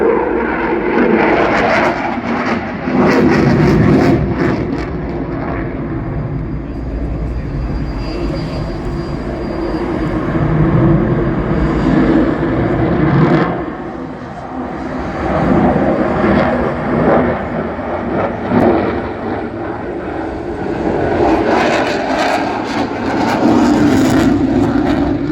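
An aircraft makes a high-speed pass at the Royal International Air Tattoo, a loud sustained engine roar that swells and fades across the full length, with rumbling bursts, heard outdoors without speech.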